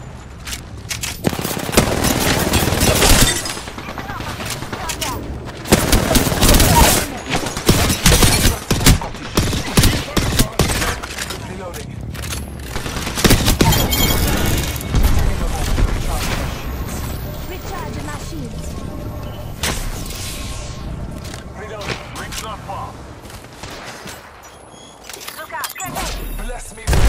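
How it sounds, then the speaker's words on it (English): Dense automatic gunfire from Apex Legends combat, with rapid bursts and sustained volleys of shots, some near and loud, others farther away, continuing with brief lulls throughout while a player talks. "I'm taking fire."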